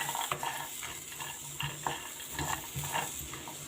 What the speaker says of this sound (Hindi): पीनट भुनी हुई होती है, बस इस घी में थोड़ा सा रोस्ट हो जाए सारे ड्राई फ्रूट।